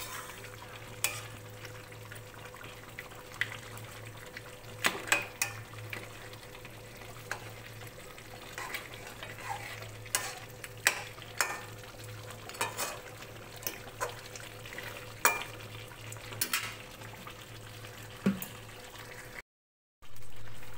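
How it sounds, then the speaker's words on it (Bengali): A covered pan of katla fish head curry bubbles and sizzles gently on the stove, with a low steady simmer broken by scattered crackles and pops before a brief silence. "ঢাকা দিয়ে দেবো, এবারে ফুটতে থাকুক।"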